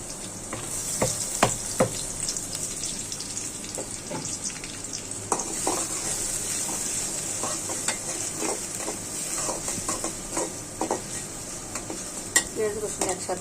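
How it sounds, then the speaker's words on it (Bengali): Onion and garlic fry in oil in a wok with a continuous close sizzle, punctuated by frequent clinks and scrapes of a utensil stirring against the metal. "পেঁয়াজ দিয়ে দিচ্ছি।"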